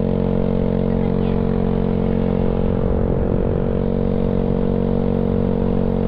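Yamaha Mio Sporty scooter riding along a small road near Batangas City: a steady, loud engine drone with constant wind rush, close and unbroken, with no speech.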